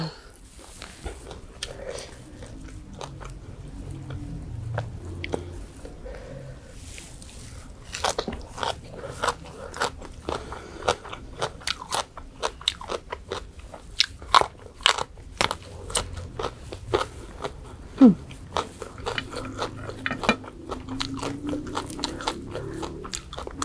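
Crispy deep-fried pork tail being bitten and chewed close to the mic, with a steady run of sharp crunches and crackles throughout and a faint voice now and then underneath.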